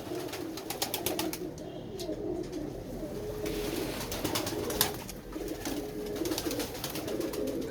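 A Lakha pigeon gives low, repeated cooing nearby in a long, uneven run, mixed with scattered light clicks and knocks and no speech.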